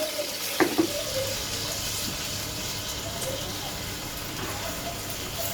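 Water runs steadily into a cooking pot to make stock for Pakistani fish pulao, a continuous close pouring wash with a couple of brief clinks near the start.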